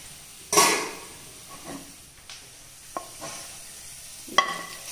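Hot tempering is poured into a fish curry made with mango, ground coconut and chilli, setting off a sudden loud sizzle that fades into softer crackling, with a few light clinks of utensils against the pan.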